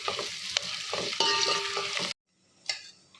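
Ingredients for a sambar made with punarpuli fry in a pan and are stirred, close spatula scrapes and clinks over a sizzle that cuts out abruptly, followed by one more sharp scrape.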